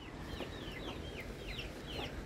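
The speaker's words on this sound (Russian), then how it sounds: "Тут есть курочки." Chickens kept by a neighbour near a river property in Alanya, Turkey, clucking quietly in a series of short calls, distant and soft against an outdoor background.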